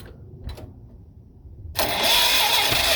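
A John Deere B tractor engine, long unused, coughs twice and then catches at once, settling into a loud, steady run under added throttle.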